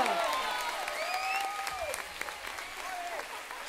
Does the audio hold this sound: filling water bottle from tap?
no